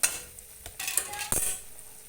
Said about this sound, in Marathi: मसाला एकदम छान भाजतो एकदम आणि स्लो भाजायचा